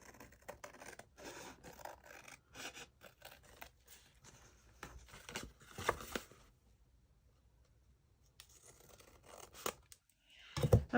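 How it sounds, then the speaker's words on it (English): Paper is trimmed for a boho folio craft, with quiet close scratchy cuts and rustling in short irregular bursts, a silent gap, then a sharper handling sound at the end. "I forgot I need to trim this right here."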